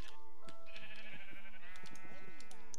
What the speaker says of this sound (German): Schafe bitte jetzt.